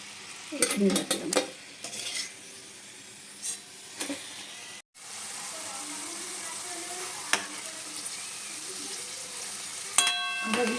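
Tal sundori pitha, puffed palm fritters, sizzle steadily in frying oil while a utensil clinks and scrapes against the pan as they are lifted out, with a few sharper knocks near the start and end.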